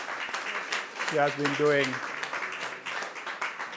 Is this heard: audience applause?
yes